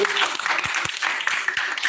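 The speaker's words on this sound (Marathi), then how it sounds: "थोडदा टाळ्या त्यांच्यासाठी" Audience at a live school felicitation ceremony claps in a dense burst of applause, near and loud, with voices mixed in.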